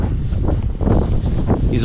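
Strong gusty wind buffets the microphone at a house construction site in a constant low roar, rising and falling slightly over a couple of seconds.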